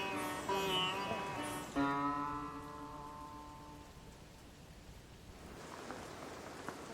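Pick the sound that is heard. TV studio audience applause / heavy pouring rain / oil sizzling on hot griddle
heavy pouring rain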